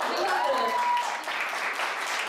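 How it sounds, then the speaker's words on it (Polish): Audience at a ceremonial association gala in Poland applauding a father, a steady wash of clapping with voices talking over it throughout. "Olbrzymie brawa dla taty."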